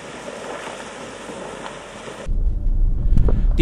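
An off-road vehicle crosses a river ford on the F910 highland track in Iceland, with steady rushing water and wind noise giving way to a louder, rumbling low-end surge as it pushes through the water.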